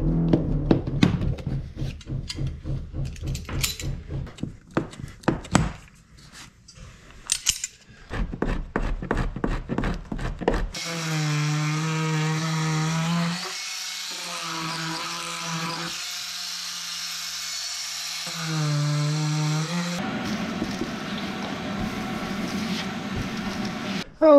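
A power tool cuts away rotten parts of a boat roof, with rapid rattling and clattering bursts early on, then a sustained buzzing whine that pauses and resumes, close and loud.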